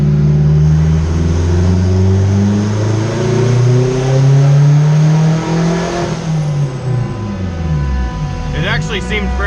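A turbocharged Acura RSX engine on a dyno revs loud and close, climbing steadily in pitch, then the throttle lifts and the revs fall away with a whistling tail.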